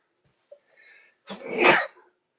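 A single sharp sneeze, close and fairly loud, preceded by a faint intake of breath.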